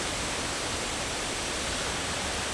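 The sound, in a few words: waterfall in Highlands, North Carolina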